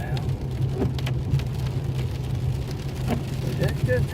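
Rain drums steadily on a car during a rainy, stormy drive, a dense patter over a low engine hum with scattered louder drops, and someone speaks in the background.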